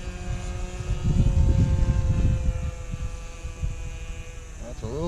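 A small RC airplane engine with its throttle cut back drones steadily at a distance on a first flight, its tone sliding lower, while people talk nearby.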